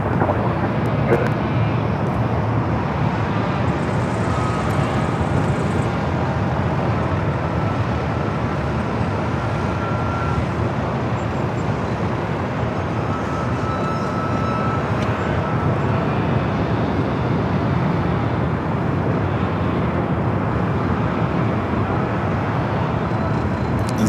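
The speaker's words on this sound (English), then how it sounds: "Zipping on down at 24 left, again heading back to Tokyo Narita in the 787-8 Dreamliner" A Boeing 787-8 Dreamliner accelerates down runway 24 left at LAX, a steady, loud broadband engine roar that holds without break throughout.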